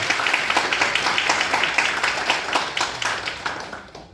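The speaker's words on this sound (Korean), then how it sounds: "뜨거운 박수와 함께 우리 인공력 교감생을 마치도록 하겠습니다" Sustained, dense applause from an audience at a high school honorary retirement ceremony, steady and loud for about four seconds, then tapering off at the end.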